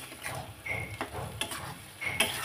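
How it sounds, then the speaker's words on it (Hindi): Radish leaves and mixed vegetables are stir-fried in a pan for a home-style muli sabji. Close, steady frying sizzle runs under a few scraping stirs and metallic ticks of a spoon against the pan, with no talk. "और इनको भी हम 5 मिनट भून लेंगे"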